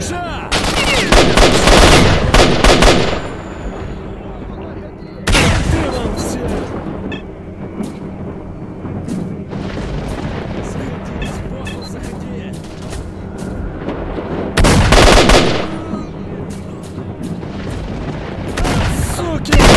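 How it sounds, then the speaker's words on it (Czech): Gunfire echoing from a main building in STALKER: Shadow of Chernobyl, several loud bursts of automatic shooting spaced across the stretch, with quieter gaps and distant rumbling between them. "Ty hlavní budovy se ozývá střelba."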